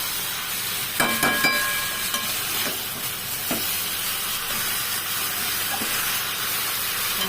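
Desi chicken and onions are frying in a pan with a loud, steady hiss and sizzle. A few metallic clinks and scrapes sound near the start and a couple more later, close by, and no one speaks.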